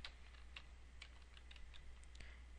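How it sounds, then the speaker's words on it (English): Typing on a computer keyboard, scattered light key clicks at an irregular pace over a steady low hum, fairly quiet and close. "So now I am typing in pit bulls"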